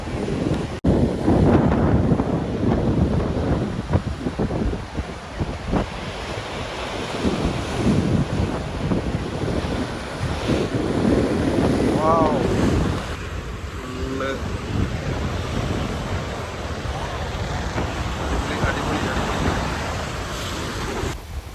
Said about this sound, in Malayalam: ഗംഭീരമായ തിരകളാണ് ഇവിടെ പോകുന്നത്